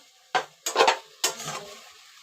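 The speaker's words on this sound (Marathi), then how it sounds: "त्यात मी पूर्ण ढवळून घेते" Amla (Indian gooseberry) preserve being stirred in a pot, three short scraping strokes of a spoon against the metal, close and distinct with brief pauses between them.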